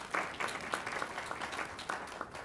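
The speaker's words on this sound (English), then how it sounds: "another round of applause for Ms." Fairly faint applause from attendees at a public school board of education meeting honoring a math and science teacher, a small group clapping with some distinct individual claps audible.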